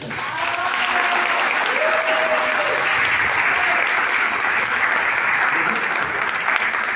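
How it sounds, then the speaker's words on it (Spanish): Audience applause at a literary event honoring writer Carlos Alberto Velásquez, loud, sustained clapping from a full room with a brief whistle-like tone and murmured voices mixed in. "Para el aplauso."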